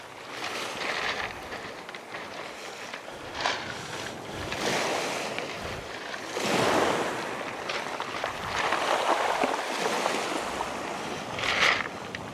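Waves break and wash along the Irish Sea shore in high surf, a steady roar rising and falling in slow surges, mixed with gusty wind buffeting the microphone.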